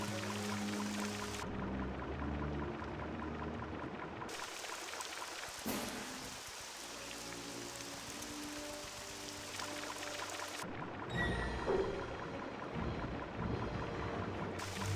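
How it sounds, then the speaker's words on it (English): Waterfall in the Starwind mod of Morrowind gives a steady, loud rushing roar like heavy rain, continuous throughout with a short rumbling patch near the middle and no talking. "A waterfall, check that out."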